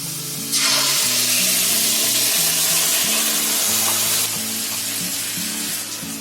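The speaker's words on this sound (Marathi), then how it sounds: "घी सुटेपर्यंत ती ग्रेव्ही सुकेपर्यंत आपल्याला फ्राय करायची आहे फुल गॅसवर" Ground gravy poured over browned onions frying in ghee on full flame, giving a loud, steady sizzle throughout, with a stronger hiss starting near the beginning and a faint clink of utensils underneath.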